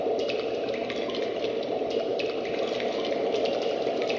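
Bubbling water effect from a Yamaha P-515 digital piano's sound library: a continuous, fairly quiet burble with a steady gurgling texture and no talking over it.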